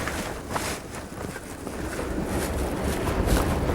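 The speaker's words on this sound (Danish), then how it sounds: "Det blæser meget i dag." Strong wind blows outdoors in the countryside, a loud, continuous rumbling roar with gusty buffeting against the microphone and no talking.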